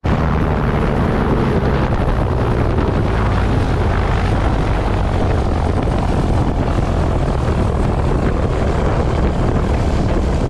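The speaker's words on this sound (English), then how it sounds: "Just lost our engine." A helicopter's engine is cut during a hover for a practice autorotation landing; a loud, steady rotor and engine roar with heavy wind buffeting fills the whole stretch without letup.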